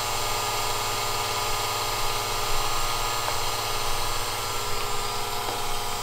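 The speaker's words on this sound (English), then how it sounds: "longevity test to make sure the motor we've chosen can handle turning off and on a bunch of times" An electric motor spins steadily at about 6,000 RPM during an on-off longevity test, giving a constant close, even tonal whir with a faint mechanical hum and no pauses.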